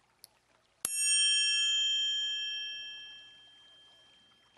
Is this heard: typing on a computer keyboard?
no